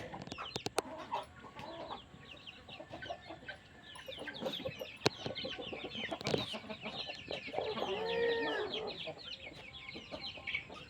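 Hens cluck repeatedly in a busy farmyard on an aseel chicken farm in Nakodar, with other birds chirping and scattered knocks around them, moderately close.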